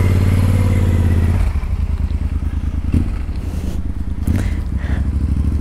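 A loaded motorcycle engine labors and revs climbing a gravel road near Villa Cerro Castillo, Chile, with crunching, clattering tires over loose gravel, close and loud throughout.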